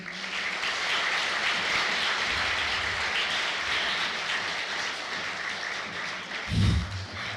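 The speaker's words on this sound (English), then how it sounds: "If you guys can give me a round of applause for my assistant, Isaiah Connors here." An audience gives a round of applause, a steady broad patter of many hands clapping throughout, with a brief low thump near the end and no talk over it.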